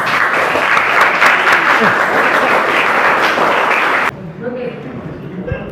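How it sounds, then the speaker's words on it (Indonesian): Loud classroom applause for a student group that has just presented, dense clapping that stops abruptly after about four seconds, leaving quiet room noise with faint voices. "Silakan tepuk tangan buat kelompok yang sudah maju."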